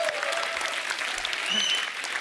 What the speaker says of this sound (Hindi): मतलब तालियां बनती हैं।